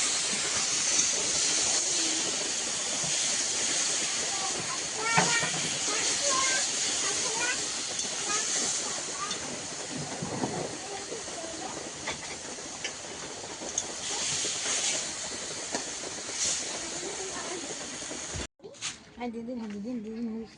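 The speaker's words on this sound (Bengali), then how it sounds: "সমস্ত মশলা কষানো হয়ে গেছে, মশলা মাখানো লোটে মাছটা দিয়ে দিলাম।" Bombay duck fish coated in spice paste fries in a hot pan with a loud, close, continuous sizzling hiss that cuts off sharply near the end.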